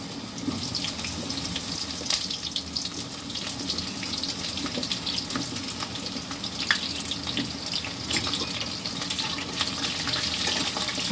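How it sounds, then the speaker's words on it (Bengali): Pointed gourd (potol) frying in a pan until reddish, giving a steady, dense sizzle and crackle that runs unbroken and fairly loud throughout. "পটলটা দিয়ে দিয়েছি, লাল লাল করে ভেজে নিই।"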